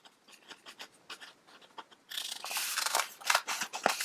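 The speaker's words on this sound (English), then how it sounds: "if your scissors aren't good enough to cut 2 sheets of paper at once, you can cut all 4 strips separately" Scissors cut through two sheets of paper held together, giving a long dry, crunchy snipping rasp that starts after a quieter stretch of light paper handling and scratching, close and clear with no talk.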